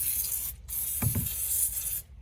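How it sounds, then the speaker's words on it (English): A short burst of penetrant aerosol spray, two quick hisses close by, applied during fuel pump work on a 2006 Ford Mustang 4.0, against a steady background noise. "Spray some penetrant down in here"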